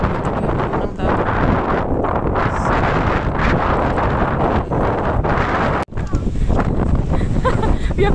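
Strong wind by the sea roars and buffets the microphone continuously at a scenic coastal viewpoint, loud and steady with gusting swells, and speech is barely audible beneath it.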